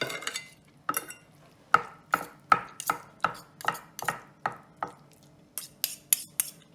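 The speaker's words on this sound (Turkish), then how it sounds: "Doğruyorum." A knife chops cooked brain on a board in a steady rhythm, about a dozen crisp strikes with short pauses, close and clear with no talking.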